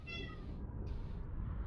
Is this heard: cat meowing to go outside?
yes